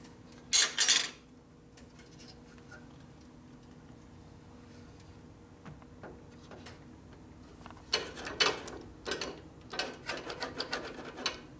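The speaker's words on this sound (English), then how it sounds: "Shifter's going to rub, but it is shifting." Gear shifter on a 1957 Harley-Davidson panhead motorcycle being worked by hand: a loud metallic clack at the start, a long quiet stretch, then a run of rapid rattling mechanical clicks and clunks near the end.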